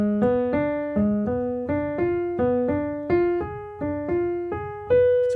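A repeating arpeggio pattern on a pitched instrument, here restarting from D as a chord-tone line for soloing. Clear plucked notes climb and fall in steady groups, each set stepping slightly higher, played alone without talk.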